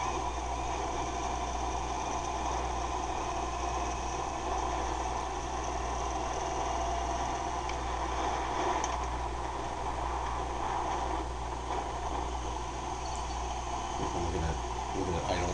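A Yamaha V-Star 1100 motorcycle engine idles steadily throughout, a continuous low mechanical drone with a faint fan-like hum, close and unbroken, with no speech over it.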